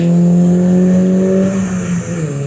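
A powerful 2-litre turbo petrol sports car engine drones loudly and steadily, its pitch holding then dipping slightly near the end, with no talking.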